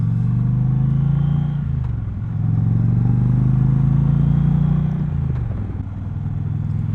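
An Indian Challenger motorcycle cruising on a ride, its steady engine drone loud and close under rushing wind noise, the pitch sagging and rising gently as the throttle eases off and back on.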